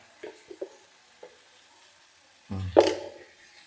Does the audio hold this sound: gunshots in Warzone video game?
no